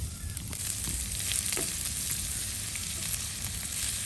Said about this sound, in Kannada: ಈರುಳ್ಳಿ ಒಳ್ಳೆ ಕೆಂಪಾಗಬೇಕು ಅವಾಗ ಮಾತ್ರ ನಿಮಗೆ ಗೀ ರೈಸ್ ಚೆನ್ನಾಗಿ ಬರುತ್ತೆ ಚೆನ್ನಾಗಿ ಕೆಂಪಾಗುವವರೆಗೆ ಇದನ್ನು ಹುರಿದುಕೊಳ್ಳಿ